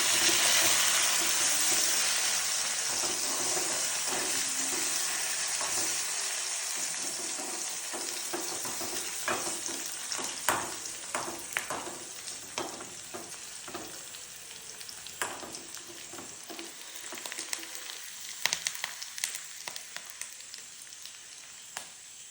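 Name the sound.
curry leaves and onion frying for tempering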